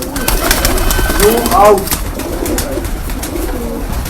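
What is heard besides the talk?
pigeon cooing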